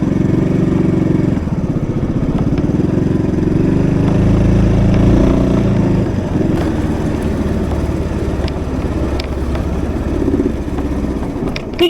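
A motorcycle ride abroad, the engine droning steadily and loudly up close with rumbling road and wind noise, the pitch shifting slightly as it runs on for the whole stretch without talk.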